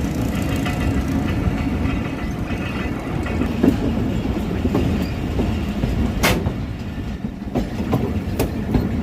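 A passenger train rolls steadily near Lodhran Junction, heard from on board, with a loud continuous rumble and the clickety-clack of wheels on rail joints, plus a few sharp squeaks.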